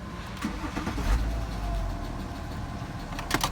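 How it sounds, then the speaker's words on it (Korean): A BMW F10 535d diesel with 100,000 km on it, suspected of an abnormal engine noise, starts up from inside the car and runs on at a low, steady rumble with faint ticking, fairly quiet and without speech. "시동을 한번 걸어볼게요."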